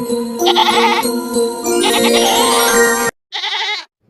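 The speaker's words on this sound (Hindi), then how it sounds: "अरे, यह तो बकरी के चिल्लाने की आवाज है," A goat bleats loudly and repeatedly at close range, wavering cries running almost continuously, then a short break and one final bleat.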